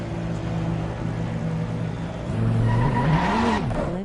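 A Lamborghini race car engine in Assetto Corsa Competizione hums at idle, then rises in pitch and loudness as it revs up and dips again, with no talk.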